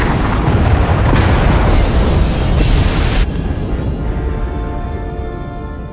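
Massive explosion destroying escape pod bays in Star Wars: The Old Republic, a loud deep boom with crackling debris that rolls on, then slowly fades into a low rumbling tail.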